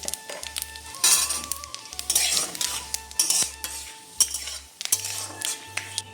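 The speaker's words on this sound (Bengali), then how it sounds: "এদিকে আমি কড়াইতে দিয়ে দিচ্ছি সর্ষের তেল ফোড়নে দিচ্ছি গোটা শুকনো লঙ্কা আর তেজপাতা আর দিয়ে দিচ্ছি পাঁচ ফোড়ন" Dried red chillies, bay leaf and panch phoron fry in mustard oil in a kadai, crackling and sizzling close by while a metal spoon clinks and scrapes with quick stirring. A soft musical tone plays underneath.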